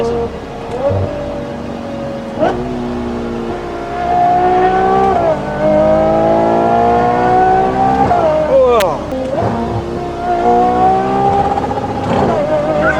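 A Ferrari Purosangue V12 screams up through the revs again and again toward the limiter, loud and close, with rising harmonic whine, brief gearshift breaks and people talking over it.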